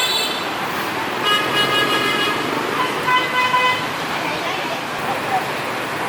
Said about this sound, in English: A lot of the intersections seem to be just traffic merges together and you kind of fight your way